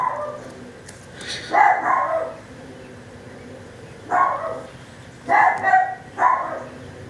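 Several dogs bark in short bursts indoors, sharp and close, with pauses of near quiet between the groups of barks and no talk over them.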